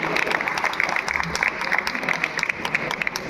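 Applause from an audience at the closing day of Agniveer training in Sirsi, honouring Satyam Academy: a few seconds of steady, dense clapping at moderate distance, with a voice speaking over it.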